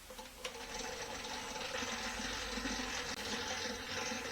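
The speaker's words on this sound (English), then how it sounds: "we start mixing at a low speed for, let's say around 2 to 3 minutes until everything is good together" Dough mixer turning Neapolitan-style pizza dough made with biga at low speed, a steady mechanical whir and rumble with faint sloshing, close and continuous, with a brief clatter near the start.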